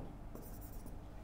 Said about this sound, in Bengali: তো আমি এটাকে একটু বড় করে লিখলাম।